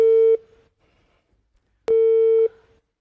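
Two identical steady telephone tones sound over a speakerphone, each about half a second long, separated by a gap of silence.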